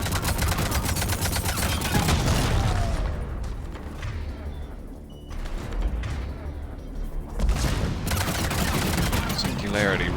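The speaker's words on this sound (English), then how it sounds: "Incendiary ammo going here." Incendiary ammo gunfire in Mass Effect, loud rapid bursts of shots with mechanical clatter, a brief lull in the middle before the firing resumes, with speech in places.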